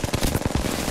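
Rapid automatic gunfire in a video game, a dense rattle of close, loud shots fired in quick succession with no voices over it.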